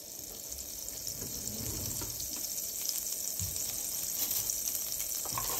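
Vegan butter sizzles in a pan, giving a steady, bright hiss with faint crackles that gradually grows a little louder; no speech.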